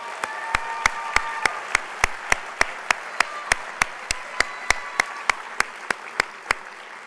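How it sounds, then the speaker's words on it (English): Sharp single claps ring out one by one at a steady, even beat at a 2018 awards banquet, each a crisp, loud snap with a faint murmur of the room underneath. "give him a round of applause"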